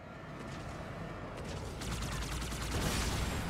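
Rapid gunfire in Halo 2 Anniversary combat, a dense run of repeated shots building slightly in loudness, fairly faint under a steady background roar.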